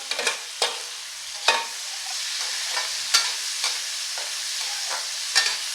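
Chopped onions and garlic fry in a pan as the base for a paneer malai kofta gravy. A steady close sizzle runs throughout, broken by sharp scraping clicks of stirring.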